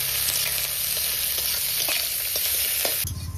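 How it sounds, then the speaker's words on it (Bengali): Chopped onions fry in a hot pan with a steady, close sizzle and occasional spoon-stirring clinks, the frying dropping off near the end. "পেঁয়াজটাও সুন্দর করে লাল লাল করে ভেজে নিয়েছি।"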